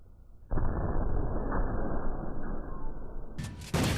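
TAC-12 shotgun in Call of Duty: Ghosts, a single heavy boom with a long, loud rumbling tail, followed by another sharp blast at the end.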